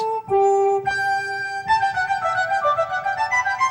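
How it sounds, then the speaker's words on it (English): Sustained, pure flute-like electronic tones, two lines moving through a short melodic phrase, clear and close with no talking. "There are 2 flutes."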